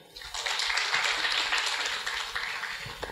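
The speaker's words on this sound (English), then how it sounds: "So a big round of applause for Dhande sir too." A small audience gives a round of applause at a post-GATE guidance talk, a brief steady patter of clapping that swells and fades, fairly faint and distant.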